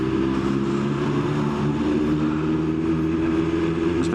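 A large tractor rumbles past on a road, a low steady engine drone heard from a cycling rider's position, with faint wind noise and no talking.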